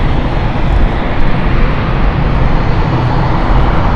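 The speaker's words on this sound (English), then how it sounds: "Beautiful aircraft inbound" A distinctive aircraft inbound to London City Airport roars loud and close, a steady broadband engine rumble holding throughout with no talk.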